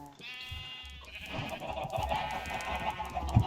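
Sheep bleat in the Minecraft video game, a few short wavering cries over the game's steady background sounds, fairly close and moderately loud with no talking.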